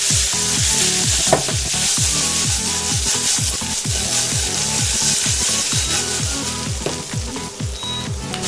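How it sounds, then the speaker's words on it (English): Bok choy roots stir-fry in a hot pan with a constant loud sizzle, while a spatula scrapes and tosses them in a quick, steady rhythm of repeated strokes close up. "I'm gonna first fry the bok choy roots. Now mix it well."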